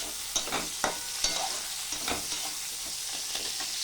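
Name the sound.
potatoes and onion frying in pan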